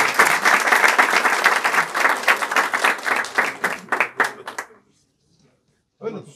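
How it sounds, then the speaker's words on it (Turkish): An audience at a municipal gathering applauds loudly and steadily for several seconds, the clapping thinning into a few scattered claps before dying away, then a voice begins speaking. "Onu da bir huzurunuzda alkışlamak istiyorum."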